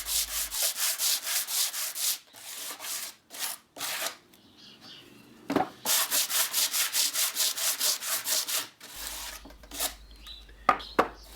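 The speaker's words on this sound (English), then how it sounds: "you need to sand the surfaces that will be glued together to remove any dirt and grease" Hand sanding of wooden pallet leg pieces, with rhythmic back-and-forth rasping strokes in close bursts separated by short pauses.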